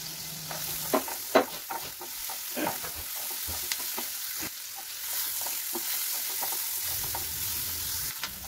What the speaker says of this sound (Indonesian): masukkan juga di sini ada bawang putih dan juga bawang bombay. Gongso hingga berbau harum.